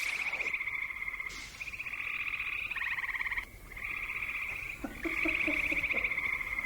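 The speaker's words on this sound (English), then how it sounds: "The sounds of frogs calling or croaking once the sun sets." Frogs call and croak in a steady, dense chorus after sunset, high trilling notes layered continuously with brief dips, close and fairly loud with no voices.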